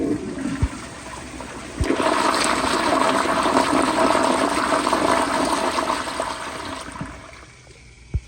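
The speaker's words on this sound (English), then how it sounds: "now I'll do a close-up flush, and I'll just press and release the handle." A 1994 Kohler Wellworth Lite toilet flushing on a mid-tank, recorded close up: a handle click, then a loud rushing flush for about five seconds, fading to a trickle and refill, with a final click.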